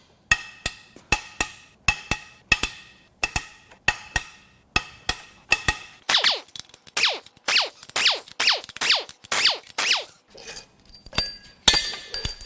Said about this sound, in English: Now we can crack the head bolts loose.